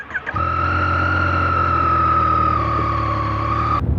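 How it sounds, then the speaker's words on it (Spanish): Yamaha FZ-09 motorcycle engine catching on the starter, then settling into a steady, loud idle with an even droning hum that cuts off abruptly near the end. "si lo jalamos hacia atrás enciende la moto"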